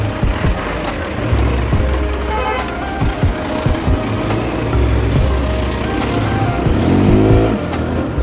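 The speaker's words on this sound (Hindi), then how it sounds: "गाइस मेन ट्रैफिक है आप लोग देख सकते हैं" Main-road traffic of cars and trucks rumbles continuously nearby at night, engines rising and falling as vehicles pass, with a horn-like tone near the end; no talking.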